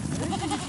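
Goats crowding toward a water trough in the Gobi Desert, Mongolia, give a few close, wavering bleats over a steady bed of outdoor noise, with no talk.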